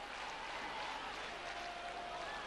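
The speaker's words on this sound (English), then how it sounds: "there's the local crowd being cheered on in support of their lad, Kaiho" Local sumo crowd at the Kyushu tournament applauding and cheering for their hometown wrestler Kaiho, a steady wash of clapping and crowd noise filling the hall throughout.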